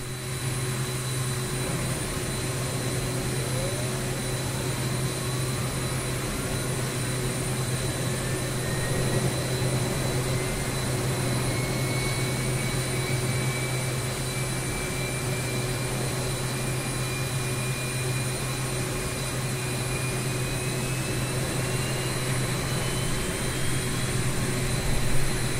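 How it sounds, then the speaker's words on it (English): Simulated T-38C Talon jet engine spooling up during a cockpit start, a dense steady roar with a rising whine that climbs slowly over about twenty-five seconds, loud and continuous without speech. "Start the left engine similarly."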